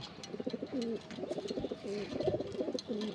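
A single male Kaldom pigeon gives a run of close, low, rolling coos in repeated phrases, with faint background noise.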